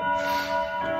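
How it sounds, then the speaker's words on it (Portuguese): Carillon bells ringing steadily at a distance, sustained tones layered over a busy background of room noise with no voices. "o Carrilhão já até tocou"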